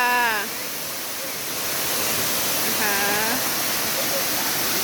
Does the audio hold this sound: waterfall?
yes